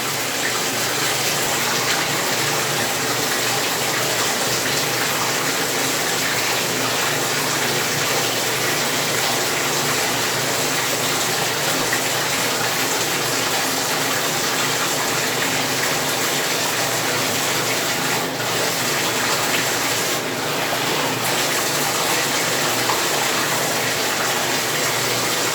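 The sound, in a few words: water running from a tap on hair wash day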